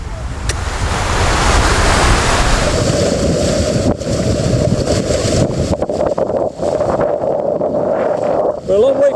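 Choppy sea waves slap against a small boat far from shore off Barbados. Loud gusting wind buffets the microphone throughout, and a voice briefly cuts in near the end.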